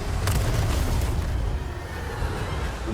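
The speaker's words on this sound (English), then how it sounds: "then I just throw a grenade, and he is done for" A grenade explodes against the giant El Gigante in Resident Evil 4, a loud close boom with a sharp burst followed by a rumbling, gradually fading tail.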